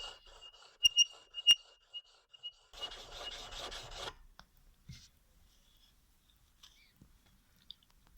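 A chisel is rubbed back and forth on a sharpening stone, giving a short burst of gritty rasping strokes after a few faint clicks and taps, then quiet handling noises in a still room.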